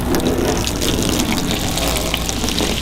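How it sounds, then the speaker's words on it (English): Water from a hose rinses the ceramic-coated surface of a Citation aircraft outdoors, a loud, steady gushing spray that runs continuously with no talk over it. "So I'll go turn the water on"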